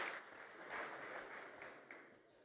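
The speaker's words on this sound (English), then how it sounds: "Give a big hand of applause for Bjarke." A conference audience at a software event applauds a speaker being introduced, a warm continuous patter of many hands that gently tapers off over a couple of seconds.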